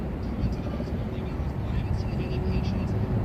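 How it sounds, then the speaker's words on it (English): A helicopter flies overhead near the scene of a police and firefighter shooting, its low rotor rumble steady and fairly distant, mixed with background traffic. "I hear another helicopter."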